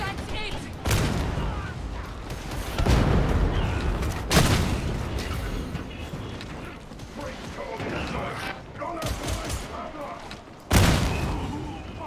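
Gunfire in Warhammer 40,000 Darktide arrives as several sharp, loud shots and bursts spaced across the stretch, with mechanical clatter and a voice talking in between.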